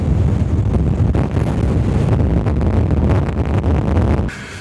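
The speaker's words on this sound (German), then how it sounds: "Hier ist es richtig stürmisch und das liegt, glaube ich, vor allem daran, dass wir hier auf so einer Landzunge sind" Strong wind gusting across a stormy headland on Crete, a loud, continuous roar buffeting the microphone with low rumbling gusts before dropping off abruptly near the end.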